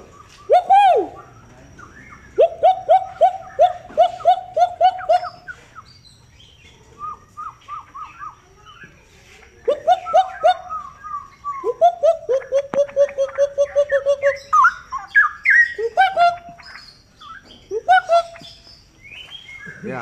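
Caged cucak rowo (straw-headed bulbuls) and murai birds in Klaten, Central Java, sing close by in loud, rich, bubbling phrases and repeated whistled notes, with short pauses between bursts.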